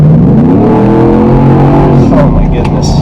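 A 2017 Roush Nitemare single-cab truck accelerating hard in sport mode, its exhaust roaring loud and close as the engine pulls up through the revs, with a voice briefly audible near the end.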